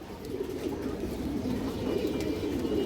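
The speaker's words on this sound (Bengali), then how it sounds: "এই দেখেন সিলভার বাঘা নর কবুতর" A silver bagha male pigeon coos softly among a loft of pigeons, the low murmuring calls half buried in a steady, hissy background noise that stays constant throughout.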